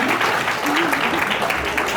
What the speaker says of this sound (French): On peut applaudir l'histoire.